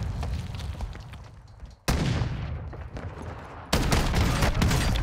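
Shotgun shells fired in a video game: three loud, sudden blasts spaced about two seconds apart, each followed by a rumbling, decaying tail.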